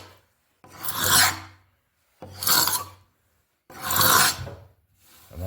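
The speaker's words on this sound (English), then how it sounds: "I like to use a paint scraper to remove a lot of this glue up first" A paint scraper scrapes glue squeeze-out off a wooden butcherblock countertop in three long, loud rasping strokes with short pauses between them, followed by the start of a fourth, close up and with no voices.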